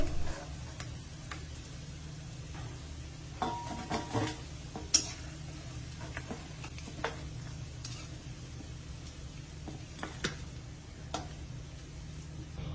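Fish fries in a pan, giving a quiet, continuous sizzle with scattered light ticks and clinks as pieces are turned over.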